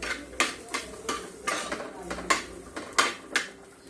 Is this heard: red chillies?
yes